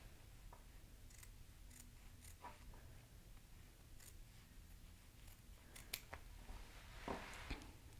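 Scissors snipping through the fabric seam allowance of a sewn garment, a scattering of quiet, close, crisp cuts in an otherwise hushed room.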